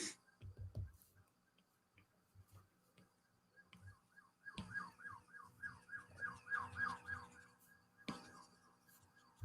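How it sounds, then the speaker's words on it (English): A wailing siren rises and falls repeatedly at a distance, fairly faint, with scattered thuds and background noise around it. "now there's a siren"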